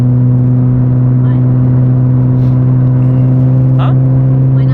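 A track-built BMW E36 engine droning at a steady, loud low hum while cruising in fifth gear, with faint cabin rustles and no clear talk over it.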